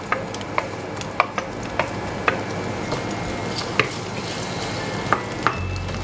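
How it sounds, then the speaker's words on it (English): Sliced onions sautéing in hot oil with two small bay leaves for a chicken and beans bunny chow curry, giving a steady low sizzle broken by sharp stirring clicks and taps of a utensil against the pan. "Let's saute the onions until nice golden brown"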